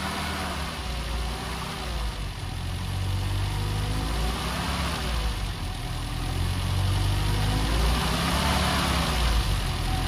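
A 1970 Lancia Fulvia 1.3S Sport Zagato engine idles steadily with a low, even rumble and audible intake noise after its choke is turned off, running smoothly throughout with no voices.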